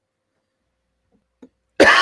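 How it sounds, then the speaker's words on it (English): A single harsh cough bursts out close to the microphone after near silence, preceded by a faint small throat sound. "Still coughing up a little bit."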